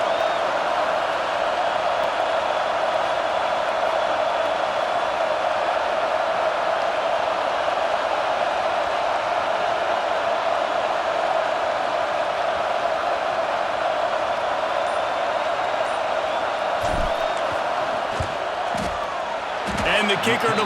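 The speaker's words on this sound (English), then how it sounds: "This crowd trying to do its part to get inside the kicker's head." A packed stadium crowd roars continuously in EA Sports College Football 26 as a field goal unit lines up. The noise is a dense, loud, unbroken wall, with a few thumping knocks near the end.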